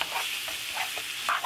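Meat browns in a pot with a close, steady sizzle and a few soft stirring scrapes, brief and without talk.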